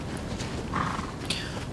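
A horse moves in the video game Shadow of the Colossus, with soft hoof clip-clop and a brief snort or whinny over a steady game ambience.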